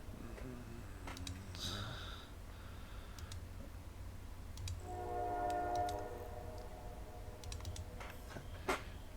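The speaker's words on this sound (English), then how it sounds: "Hey yo, train, can you stop honking your horn?" A train horn sounds at a distance in a sustained tonal blast, over a low rumbling background with scattered clicks.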